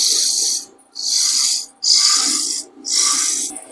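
Wood being cut away by a lathe turning tool while shaping a candle stick holder, heard as four sustained bright scraping passes separated by short pauses, close and fairly loud with no talking.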